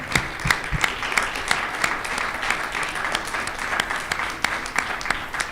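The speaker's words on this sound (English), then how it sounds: "Continue your round of applause for both candidates." An audience at a 2021 student presidential debate applauds the two candidates with sustained clapping, individual sharp claps standing out over the steady wash.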